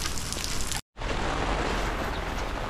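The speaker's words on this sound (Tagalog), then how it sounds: "Lakas pa rin ang ulan." Heavy rain after a strong typhoon in Taiwan pours down in a dense, steady roar, broken by a brief moment of silence before resuming just as strong.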